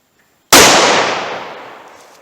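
A single loud, close gunshot from a Taurus 605 revolver at an outdoor range, a sharp crack after a moment of silence that rings out in a long, fading tail.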